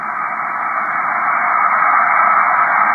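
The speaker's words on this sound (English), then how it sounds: "Like you might be hearing just this, right? Just hiss." Steady, unbroken radio static hiss on an amateur radio band, a loud broadband rush holding level throughout with no voices or tones rising out of it.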